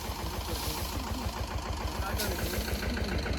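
A tractor engine runs steadily with a rapid low chugging pulse throughout, close and continuous, while someone speaks over it.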